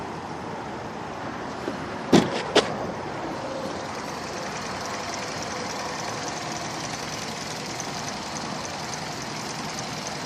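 A 2000 Toyota Avalon engine that runs rough, lean and stalls idles with a low, uneven drone nearby, broken by a few sharp clicks, with no strong rev evident.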